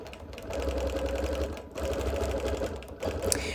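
A sewing machine quilts an outline around an appliqué on a busy-print quilt, its needle running in a steady, close mechanical whir with brief dips and no talk.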